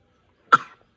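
A single short cough, close and clear, in an otherwise quiet moment.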